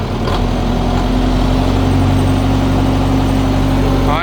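A Sonalika Tiger 75 CRDI tractor engine runs steadily at 1400 RPM, a loud, close, continuous diesel drone with a low steady hum and no change in pace.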